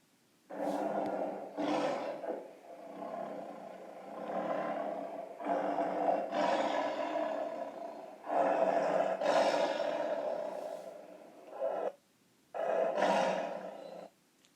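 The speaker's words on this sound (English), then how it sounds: "And they started growling at each other." Tigers growl and roar at each other in long, rumbling bursts that come and go over several seconds, fairly close and with no voices.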